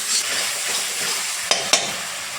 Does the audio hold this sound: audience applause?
no